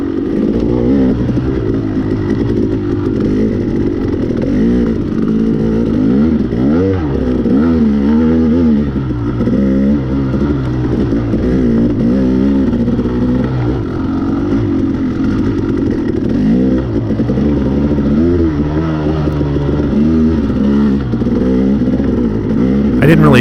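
A dirt bike races a cross-country track at an MSXC round at Russell Creek in Greensburg, Kentucky, its engine buzzing continuously close-up and rising and falling in pitch as the rider picks up speed.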